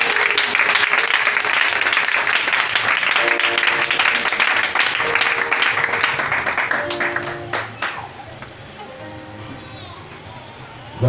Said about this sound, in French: Acclame-le puissamment ce matin.